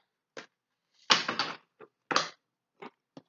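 Tarot cards are shuffled in short bursts, a few crisp riffles and taps close by, spaced out over a few seconds with silence between them.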